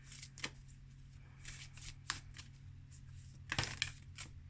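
Oracle cards from a Universe Has My Back deck being shuffled and drawn, quiet crisp riffling and slapping bursts in an uneven rhythm, close and soft.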